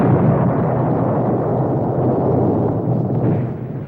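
Explosions from Stuka dive bombing in the air combat game Wings 2 form a continuous, loud, deep roaring rumble that eases off slightly at the end.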